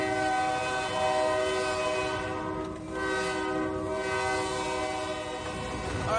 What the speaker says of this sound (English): How much do you love driving this train